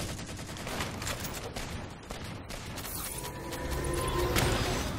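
Rapid turret gunfire and clattering weapon sounds in a Halo 4 capture-the-flag match, dense bursts of shots overlapping with mechanical game effects at a steady, busy level.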